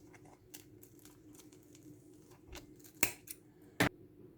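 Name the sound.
scissors cutting nylon thread for tassel earrings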